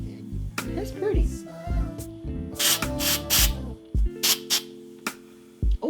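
Spray bottle spraying, several short bursts of hissing mist in quick succession, mixed with a voice talking in between the sprays.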